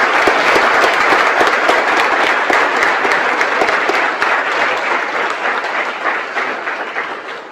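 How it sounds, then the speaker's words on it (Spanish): Sustained audience applause fills a political discussion event to send off guests, dense steady clapping that slowly thins toward the end. "quería pedirles un fuerte aplauso de nuevo para despedir a nuestros invitados"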